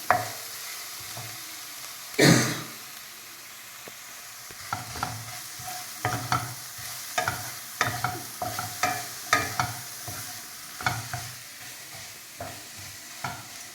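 Okra frying in a pan for a chili-spiced stir fry, a continuous close sizzle with repeated scraping stirs of a spatula, one louder clatter near the start.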